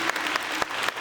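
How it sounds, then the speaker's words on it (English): Audience applause for a panel of speakers at a union event on democracy, a brief burst of dense clapping from a crowd, steady and fairly close, lasting about a second. "let's give another round of applause for our panelists"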